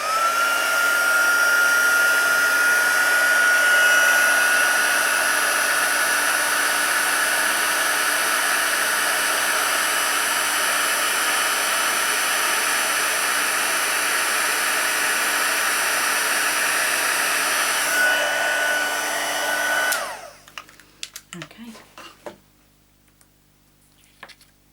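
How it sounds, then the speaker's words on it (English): A heat gun roars steadily for about twenty seconds while heat embossing a Stampin' Up! card, a loud constant blowing whine that cuts off, followed by a few small clicks and handling noises. "Now I'm going to heat emboss this, so it's going to go a bit noisy, but it does emboss very, very quickly."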